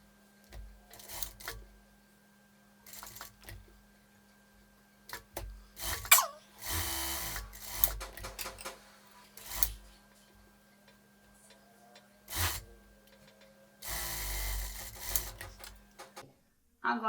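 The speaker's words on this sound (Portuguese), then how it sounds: "Passo uma costura com a distância de 1 centímetro." A straight-stitch sewing machine runs a seam on a cropped top in several separate bursts, loud and close, with quiet gaps between runs and a steady low hum in the background.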